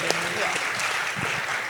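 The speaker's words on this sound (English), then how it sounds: "Round of applause." Applause at a livestreamed youth challenge event rises briefly and softly, a thin smattering of clapping with voices faintly mixed in beneath.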